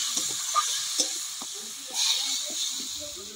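Water splashes into spice paste frying in a pan for a flat bean curry, giving a soft, steady hiss and sizzle with a few small crackles and stirring scrapes, close and fairly quiet.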